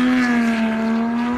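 A Porsche flat-six engine holds a steady, loud, droning growl with a strong low hum and stacked harmonics, sustained briefly without revving up or down.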